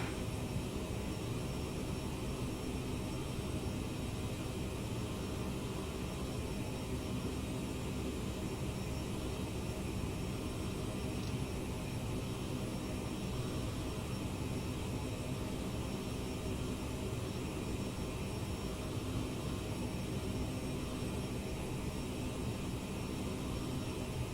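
Steady, loud broadband roar of a Bombardier CRJ 900 jet airliner cruising between Regina and Edmonton, heard from the cabin as an unbroken drone with no voices.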